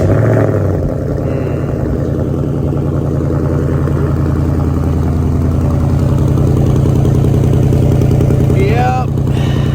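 A car engine runs steadily, loud and close, with a deep continuous rumble and a slight rise in revs, while people talk over it.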